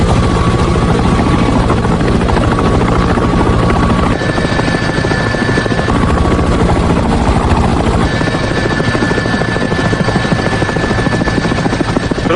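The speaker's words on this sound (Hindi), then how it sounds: "ये कैसी आवाज है? हेलीकॉप्टर?" A helicopter thunders close and loud with continuous rotor chop throughout, steady and dominant with no voices.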